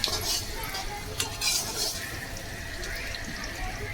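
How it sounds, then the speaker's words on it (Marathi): Oil sizzles steadily in a pan as garlic, onion and tomato are stirred, with occasional scraping clicks of a spoon over the continuous frying hiss. "लसूण कांदा टॉमॅटो तेलामध्ये चांगलं परतून घेतलंय"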